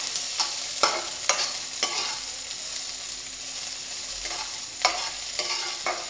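Onions fry in hot oil for a masala okra dish, giving a steady sizzle broken by sharp, regular scrapes and knocks of a spatula stirring the pan up close.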